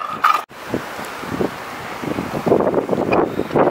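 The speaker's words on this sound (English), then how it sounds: "It's so windy." Strong gusts batter an outdoor microphone at a skate spot, giving loud rumbling buffets that rise and fall over a few seconds with a brief dropout near the start.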